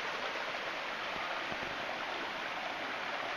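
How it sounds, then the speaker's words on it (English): Hazel Creek in the Great Smoky Mountains backcountry rushes steadily nearby, a constant broadband roar of flowing water with no pauses and no talking. "Here's the creek now."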